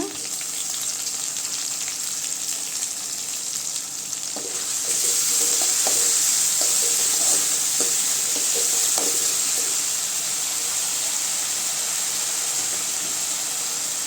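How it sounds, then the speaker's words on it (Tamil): Onions sizzle and fry in hot oil in a pan as ginger garlic paste is added, a steady loud hiss that swells midway, with occasional stirring scrapes and clinks and no talking. "வெங்காயம் நல்லா வதங்கட்டுங்க. பாருங்க, இப்போ வெங்காயம் நல்லா வதங்கிடுச்சுங்க. இஞ்சி பூண்டு பேஸ்ட்டு சேர்த்துக்கலாங்க."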